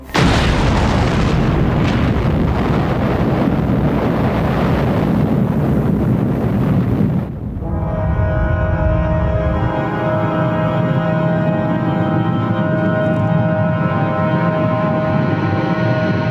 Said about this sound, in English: The explosion vaporized the stainless steel tower holding the bomb.